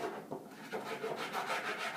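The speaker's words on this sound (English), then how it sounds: "take a little flat file, and without not getting into your material, just file it lightly and go around all your edges" A small flat file is drawn lightly along the edges of a countertop end cap, a soft, quiet rasping that repeats in short strokes throughout.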